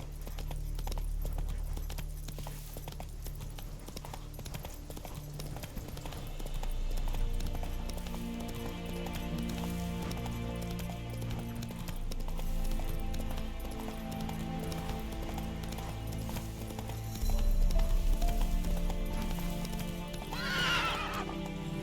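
Horse hooves clip-clop at a gallop in The Witcher 3, a steady rhythmic pounding with a neigh near the end, all under a constant bed of game music.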